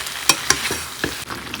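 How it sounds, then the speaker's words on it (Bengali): Kashmiri paneer being sautéed in a pan, with a few sharp scrapes and clacks of stirring over a soft, steady sizzle, close by and fairly loud. "এবার এর মধ্যে দিয়ে দেবো কাশ্মীরি পনির, দিয়ে সব একসঙ্গে কষিয়ে নেব।"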